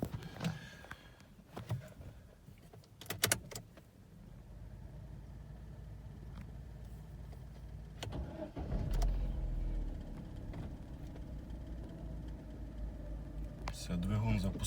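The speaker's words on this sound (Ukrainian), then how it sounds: "Продемонструю вам, як запускається двигун." Petrol 1.8 engine of an Opel Zafira starting, with clicks and thumps before a sudden catch near the middle and then a low, steady idle that lifts slightly toward the end, fairly faint.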